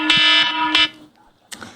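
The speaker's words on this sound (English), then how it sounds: "think we got the volume turned up on that alarm" A loud electronic alarm blares in a legislative hearing room, a sustained buzzing tone repeating in a few long bursts that cut off and resume.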